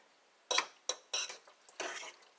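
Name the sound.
stirring brisket gravy in a pot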